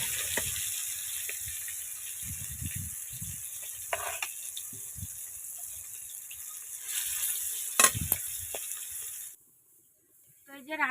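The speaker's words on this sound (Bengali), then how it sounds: "মাছগুলো এই যে ভাজা হয়ে গেছে" Fish fry in a pan over a straw-fuelled clay stove, giving a steady hissing sizzle under low murmuring voices, with a sharp clink near the end before the sound cuts away.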